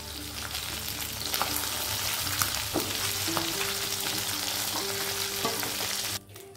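Pieces of katla fish fry in hot oil with a loud, continuous crackling sizzle close by. Occasional utensil clinks sound over it before the noise drops away abruptly near the end.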